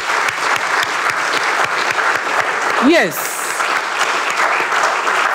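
Audience applause at a graduate students association research fund event in Ghana, steady dense clapping throughout with a brief spoken word over it.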